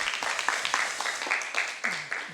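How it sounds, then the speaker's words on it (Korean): A church congregation claps to welcome a visiting missionary couple from Taiwan during a worship service, a moderate, uneven patter of hands with a voice-like tone near the end. "우리 박수로 한번 환영하겠습니다"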